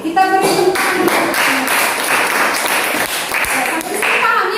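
Classroom of students clapping for several seconds, a loud, busy patter of many hands with a few voices mixed in.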